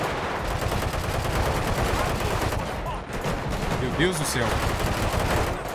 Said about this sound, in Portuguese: Tem uma pistola arrumada, não? Tô testando umas armas aqui